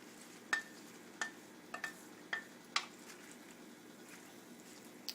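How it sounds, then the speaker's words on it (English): A spoon clinks against a pot while bok choy and green onion are stirred and pressed into simmering soup, giving about seven light, evenly spaced metallic taps over a soft, steady bubbling hiss. "we're kind of pressing that in there and stirring it in a bit"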